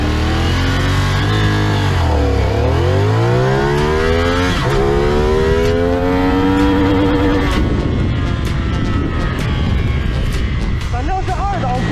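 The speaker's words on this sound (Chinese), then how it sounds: "既然来都来了，我也给大家测一个0-100。" A CFmoto 450SR motorcycle engine revs hard through its gears during a 0-100 km/h run, each rising whine followed by a drop at the shift, loud and close, ending in rougher rumbling and wind noise.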